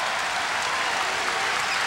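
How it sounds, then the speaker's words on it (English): SIU basketball home crowd cheering and clapping in an arena during the final seconds of a game against Creighton, a dense, steady roar of applause throughout. "the SIU crowd gets into it"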